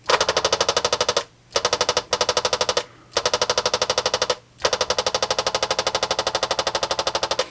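A Sinden light gun with recoil fires in its quiet machine gun mode: rapid, even mechanical clacking in five bursts separated by brief pauses, loud and close.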